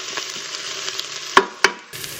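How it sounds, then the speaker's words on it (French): Browning food in a pan gives a faint, steady frying sizzle, broken by two sharp utensil clacks near the end. "Voilà, c'est fait dorer."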